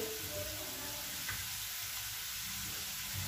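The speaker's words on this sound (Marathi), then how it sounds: "कांदा आपला छान परतलेला आहे" Onions frying golden in a pan with a spoonful of red chili powder and turmeric for bamboo shoot bhaji, a steady soft sizzle throughout with a faint clink near the middle, no talking.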